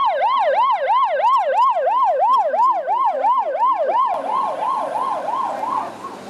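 A police car siren wails loudly and continuously in a steady rising-and-falling cycle during a flood-emergency drill, then grows slightly more distant and diffuse toward the end.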